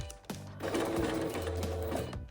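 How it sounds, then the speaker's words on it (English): A sewing machine stitches elastic fabric for figure skating gloves, running in one steady close whir for about two seconds after a brief start, then stopping, with no talk. "When I arrive at the top fingertip, I will sew very slowly and put the needle down, turn the fabric a little bit,"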